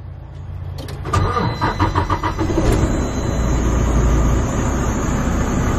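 A semi truck's heavy diesel engine idles roughly with a low, uneven rumble at a truck auction, a few sharp clanks and hisses early on, then a steady throbbing drone.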